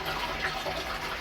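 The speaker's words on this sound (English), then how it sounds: "this is the water that they refill to use the next time the toilet is in use" Water rushes steadily as a toilet tank refills in a Japanese home, a short, even, fairly faint hiss of filling water heard alone.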